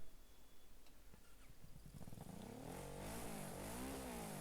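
A motorcycle engine revs in the second half, its pitch rising and falling in repeated sweeps, loud and close, after a quieter stretch of road rumble.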